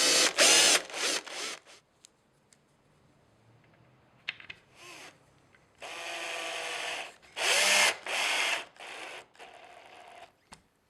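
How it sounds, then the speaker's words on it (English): Several short bursts of a power drill whining, loud and close, drilling pilot holes into the back of a furniture panel, separated by pauses and a few small clicks and knocks. "Use the indents on the back of the panel as guides for drilling pilot holes for the buttons."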